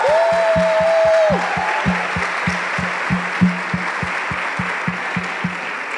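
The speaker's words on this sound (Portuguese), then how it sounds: "Palmas para nós." Audience applause at a women's church gathering, a dense wash of clapping over steady rhythmic low thumps of background music, with a brief sustained tone near the start; no talking.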